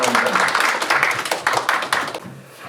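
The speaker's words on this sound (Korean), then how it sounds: "우리 황상훈 대표님 함께 박수로 맞이하도록 하겠습니다." An audience at a lecture on culture and cities claps together to welcome the speaker, a brisk burst of many hands at close range that fades out after about two seconds.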